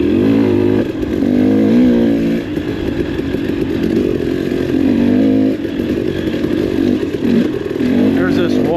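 Dirt bike engine on a dirt trail near Blue Diamond, Las Vegas, a close, loud, steady buzzing drone with wavering revs as the rider keeps moving, with a voice talking over it.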